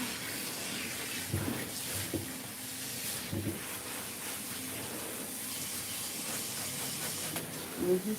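Running water pours steadily into a tub while two cats, including a Himalayan, are bathed during grooming, a continuous hiss with occasional splashes and knocks.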